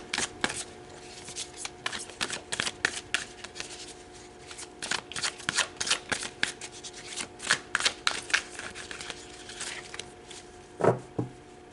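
Tarot cards being shuffled by hand, a run of quick riffling bursts and soft slaps in an irregular rhythm, close and clear, with no talking.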